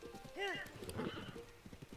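Horse in the video game The Legend of Zelda: Tears of the Kingdom: a short rising whinny up front, followed by soft hoof clip-clops and snorting, fairly quiet.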